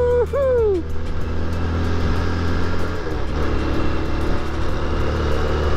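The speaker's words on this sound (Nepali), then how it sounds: "अफरोड पनि त्यस्तो साह्रो नराम्रो त छैन बाइकको लागि त।" Motorbike riding an off-road mountain track between Marpha and Ghami, a steady close engine drone running throughout with a brief rising whine at the start.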